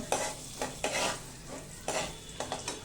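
Ingredients for a restaurant-style tomato soup sauté in melted butter in a pan, a soft continuous sizzle broken by repeated scraping stirs at a steady rhythm.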